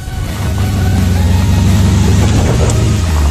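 A 2018 Mercedes-Benz G-Class engine drones steadily as the SUV drives over an off-road obstacle, swelling in the first half-second and then holding a loud, low, close hum.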